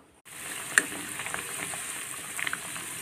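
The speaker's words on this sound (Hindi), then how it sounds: "और बैचेस में फ्राई कर लें" Bread and potato snacks dropped into hot oil, starting abruptly into a dense, steady frying hiss with scattered crackles and pops, close and fairly loud throughout.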